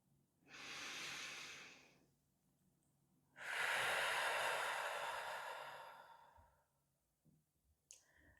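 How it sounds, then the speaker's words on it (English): A person takes one slow, deep breath during a relaxation exercise, first a soft inhale through the nose, then a pause, then a longer, airy exhale through the mouth, heard close and quiet. "Inhale through the nose, exhale through the mouth."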